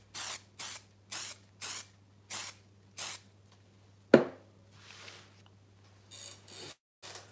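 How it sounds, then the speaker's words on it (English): Short bursts of aerosol fixative spray over a pastel and chalk sketch, six evenly spaced hisses, then a sharp knock and a few softer rustles; no talking. "now let's spray fix this."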